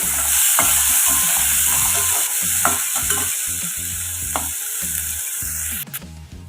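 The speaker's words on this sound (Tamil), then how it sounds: "இது வந்து கேரட் பொரியலுக்கு வெங்காயம் வதக்கலாம்" Onions sizzle steadily in a hot pan while a utensil stirs and scrapes in an irregular rhythm, loud and close.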